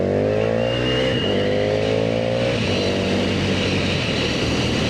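A 2024 KTM Duke motorcycle accelerates hard through the gears. Its engine note climbs in three rising sweeps, dropping at each shift, loud and close over steady wind roar.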